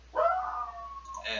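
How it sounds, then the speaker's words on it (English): A dog in the video game The Arys Expedition lets out a single long, mournful howl that slowly falls in pitch, followed by a short yelp-like rise at the end. "dogs are causing some sort of a ruckus out there"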